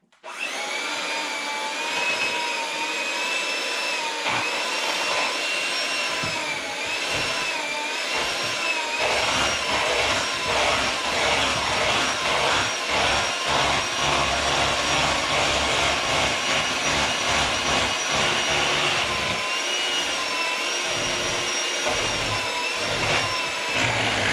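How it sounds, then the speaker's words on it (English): An electric mixer whirs loudly and continuously as it blends zucchini, eggs and oil for zucchini bread, its motor pitch wavering slightly as it works through the batter. "Now I'm going to mix up my wet ingredients, which is the zucchini and the eggs and the oil."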